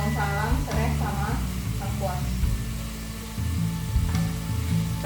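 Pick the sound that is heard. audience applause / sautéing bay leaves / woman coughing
sautéing bay leaves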